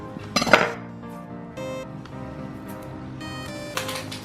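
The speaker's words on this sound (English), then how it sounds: "We're going to put it in this pot." A stuffed eye of round beef roast is set down into a pot, giving a short clatter of metal and clinks near 0.5 s, followed by faint kitchen handling noises and a brief clink near the end.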